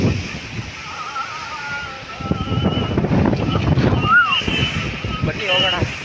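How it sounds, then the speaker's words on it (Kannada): Strong wind sweeps a mountaintop temple site, buffeting the microphone in heavy, rumbling gusts that strengthen in the second half, with a voice talking faintly beneath. "ಹೆವಿ ಗಾಳಿ ಇದೆ, ಯಾಕಂದರೆ ಮೇಲೆ ಅಲ್ವಾ ಇರೋದು, ಮೌಂಟೇನ್ ಮೇಲೆ ದೇವಸ್ಥಾನ ಇರೋದು"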